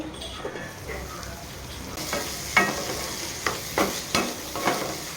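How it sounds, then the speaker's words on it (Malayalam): Tomatoes sauté and sizzle in a pan for a chammanthi, giving a steady hiss. Several scraping stirs with a spoon punctuate it in the second half, close by and with no talk. "നമ്മുടെ തക്കാളി ഒന്ന് നല്ലോണം വഴന്ന് കിട്ടിയിട്ടുണ്ട് ഒന്നുകൂടെ നല്ലോണം ഒന്ന് വഴറ്റിയെടുക്കാം നമുക്ക്"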